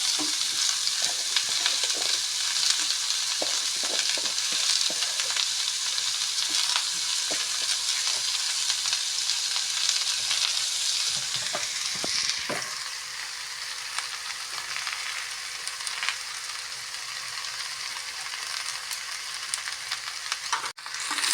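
Jackfruit simmering in coconut milk with shrimp is stirred in a pan, a steady close sizzle and bubbling broken by spoon scrapes against the metal, with no voices.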